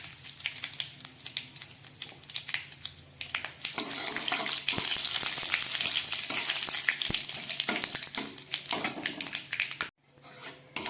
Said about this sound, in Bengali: ফোড়নটা খুব ভালো করে ভাজা হয়ে গেল।